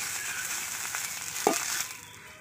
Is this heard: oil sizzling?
yes